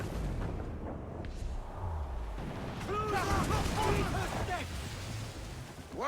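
Ship cannons fire during a naval battle in the video game Assassin's Creed IV: Black Flag, a low rumbling boom mixed with shouting crew voices and tonal game sounds.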